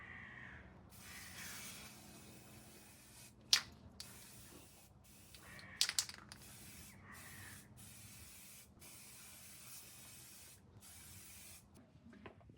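Spray paint goes onto a Datsun 510 in a series of short hissing bursts separated by brief pauses, fairly quiet and close, with a couple of small clicks between passes.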